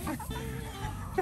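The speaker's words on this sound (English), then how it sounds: "Oh, the chickens are stealing the blueberries!" Backyard chickens cluck in short, soft bursts, close by, as they get into the blueberries, with a quiet voice in the background.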